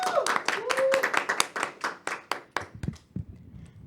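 Live audience at a Catholic talk show event clapping in a burst of sharp, dense claps that thin out toward the end, with some voices mixed in.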